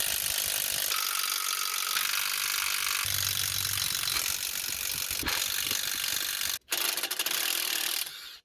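A ratchet wrench works 9/16 bolts off the PTO plate of a ZF5/ZF6 transmission, giving a dense, continuous ratcheting rasp with a brief break near the end, close up and without talk.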